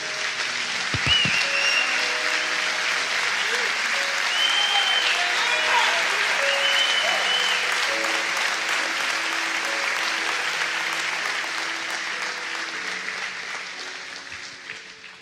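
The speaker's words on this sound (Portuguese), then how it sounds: "Aplaude Jesus" A church congregation applauds at an evening service, sustained, dense clapping lasting about fifteen seconds with voices and faint music beneath, slowly easing toward the end.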